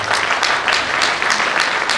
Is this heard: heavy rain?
no